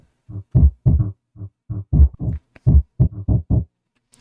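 A heavily pitched-down off kick sample drenched in convolution reverb pulses in a quick uneven pattern of deep, boomy thuds, about a dozen hits with short gaps, low and muffled.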